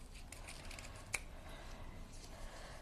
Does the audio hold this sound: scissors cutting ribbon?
yes